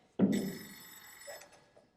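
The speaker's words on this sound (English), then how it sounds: "Half an hour later, the phone rang again." A single telephone ring sounds in a stage performance of a scary story, a sharp bell burst that rings on briefly and fades, fairly quiet and alone.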